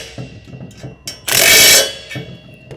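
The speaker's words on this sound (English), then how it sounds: "we're going to take our 9/16 and we're going to snug it up." A ratchet with a 9/16 socket snugs nuts onto an Aluma 82 Series trailer side spare tire mount: quick close clicking bursts, with one louder, sustained stretch of rapid ratcheting in the middle.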